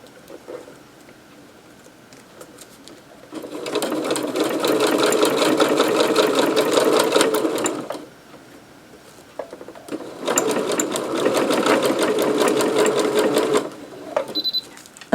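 A sewing machine stitches fabric for a custom jar opener in two long continuous bursts of rapid, even needle clatter, separated by a quiet pause, close and loud with no talking.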